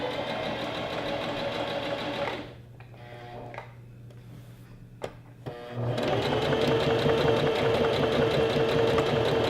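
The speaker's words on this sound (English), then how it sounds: "we're just gonna sew the waistband on all the way up" Sewing machine stitching a waistband onto a knife-pleated maxi skirt, a loud steady motor whir that stops for a few seconds with small handling clicks, then resumes and runs continuously.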